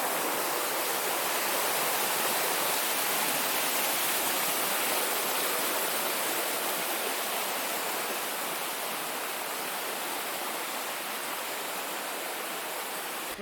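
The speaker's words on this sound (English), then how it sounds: "Well, path goes along a nice brook here." A brook flows steadily beside a hiking trail on the Massachusetts Midstate Trail, a constant close rushing wash of water with no talking.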